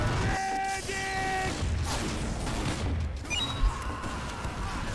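The Loose Cannon fires and explodes in Team Fortress 2, with several heavy booms and crashes over ongoing game noise and a brief tonal chime early on. One sharp louder blast lands near the end.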